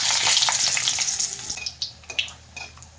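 Whole spices (green and black cardamom, cinnamon, dried chilli, black pepper) fry in mustard oil for chicken curry, giving a loud, dense sizzle that eases after the first half, leaving scattered crackles and pops.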